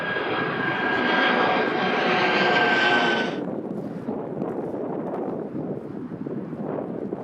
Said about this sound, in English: it's the Airbus Beluga XL, a unique looking plane that is used to transport oversized air cargo